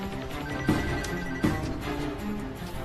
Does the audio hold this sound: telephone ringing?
yes